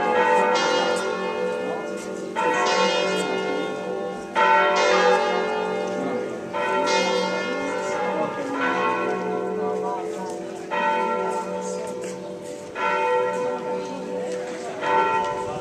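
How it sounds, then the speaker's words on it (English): Church bells of the cathedral and the city clock tower in Spoleto, Umbria, ring out at noon, a loud series of repeated resonant strikes that overlap in a steady rhythm for about fifteen seconds, with some talking underneath. "The city clock in Spoleto ringing at noon. Behind us, the cathedral ringing."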